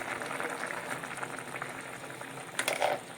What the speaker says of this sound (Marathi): याला आता उकळी आलेली आहे